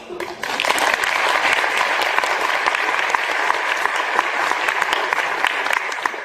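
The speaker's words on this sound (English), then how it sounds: "Go ahead and clap." An audience at a medical device marketing talk breaks into sustained applause, a thick, steady patter of many hands that starts abruptly and continues evenly to the end.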